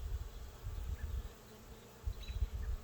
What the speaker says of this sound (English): a lot of these bees are emerging